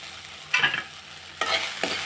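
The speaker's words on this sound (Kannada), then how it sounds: "ಇದಕ್ಕೆ ಕಾಯಿ ತುರಿನ ಸೇರಿಸಿ ಮಿಕ್ಸ್ ಮಾಡಿದ್ರೆ" Okra palya with freshly added grated coconut stirred in a pan with no water, three short scraping, sizzling strokes close by against a faint steady fry, no speech.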